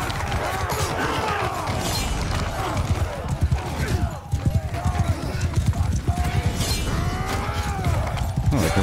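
Horses galloping in the Mount & Blade II Bannerlord video game: rapid clip-clopping hoofbeats close by, mixed with whinnies, clattering impacts and crashes, all at moderate loudness without a break.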